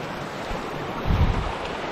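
A large river in a Philippine barangay flows with a steady, rushing wash of water, swelling briefly louder about midway, with wind buffeting the microphone and no voices.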